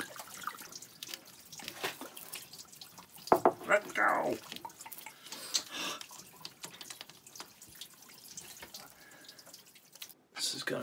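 Fresh water drips and trickles from a sailboat's engine cooling system in short splashy bursts, close by, with a person talking intermittently around it.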